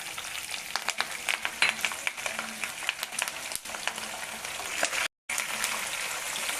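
Curry leaves, dried red chillies and green chillies sizzle in hot oil for carrot pulihora, a dense close crackling fry with stirring clicks running steadily, broken by a brief gap.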